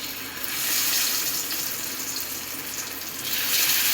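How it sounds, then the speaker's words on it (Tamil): A loud, continuous hiss of sankara (red snapper) fish frying in hot coconut oil, swelling and easing slightly, close up with no talking. "இப்போ வந்து எண்ணெய் காஞ்சிச்சு நம்ம வந்து இந்த ஃபிஷ்ஷை வந்து அதில் ப்ளேஸ் பண்ணிடலாம்"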